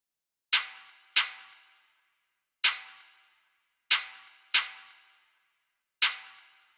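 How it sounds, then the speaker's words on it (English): Drill beat snare hits, six sharp cracks with short decaying tails, fired in a syncopated pattern: a quick pair, a lone hit, another quick pair, then a final hit, crisp and dry with no talk. "The first drum is the snare."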